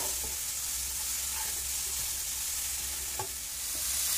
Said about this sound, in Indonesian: Panaskan pan, kasih sedikit minyak goreng, kita tumis bumbu halus.